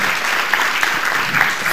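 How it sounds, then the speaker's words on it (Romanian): An audience at a Romanian talent-show preliminary round applauds contestant Flavia with continuous, even clapping, loud and close, with no talk over it. "Are nevoie de aplauze, are nevoie de încurajare."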